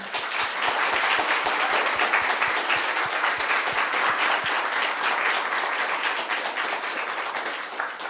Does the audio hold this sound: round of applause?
yes